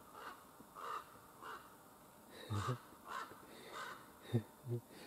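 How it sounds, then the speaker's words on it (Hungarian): Several loud caws from a crow, heard in irregular bursts of two or three calls with short gaps between them, outdoors and close by, with no speech. "Bele énekel ez a varjú a videóba."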